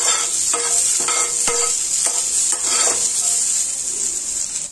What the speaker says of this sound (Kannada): ಇದನ್ನ ಚೆನ್ನಾಗಿ ಫ್ರೈ ಮಾಡ್ಕೊಂಡ್ಬಿಟ್ಟು ರುಬ್ಬಕ್ಕೆ ಹಾಕ್ತೀನಿ ನಾನು